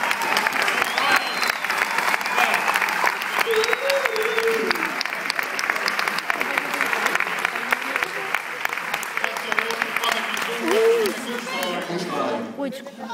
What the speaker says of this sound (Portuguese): Eu gostava uma salva de palmas a todas as tunas e viva o fado!